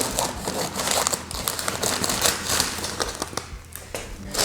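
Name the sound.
scissors cutting open a plaster bag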